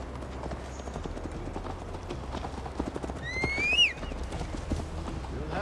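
Horse hooves clip-clopping steadily during a ride in Assassin's Creed Valhalla, a continuous even gait close by, with a brief whinny-like call partway through over a low ambient bed.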